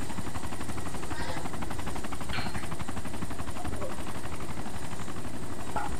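A helicopter in the video game ARMA 2 Operation Arrowhead drones with a loud, constant rotor thrum and engine whine throughout, with faint voices in the background.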